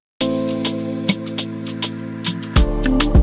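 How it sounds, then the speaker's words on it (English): Crash cymbals splash over an Afrobeat groove built in Ableton Live with stock sounds, a bright hit near the start and another as the bass and kick swell louder partway through. "So I added some other crashes in the song."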